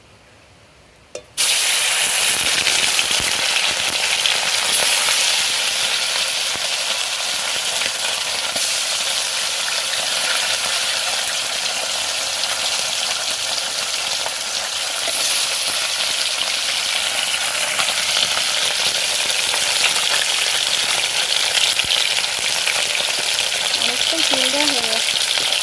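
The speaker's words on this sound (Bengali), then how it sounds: "আগে বাটা মাছগুলো ভেজে নিই।" Bata fish dropped into hot oil in a home kitchen, bursting into a loud, sudden sizzle that carries on as a steady, intense frying hiss with faint crackles, no talking.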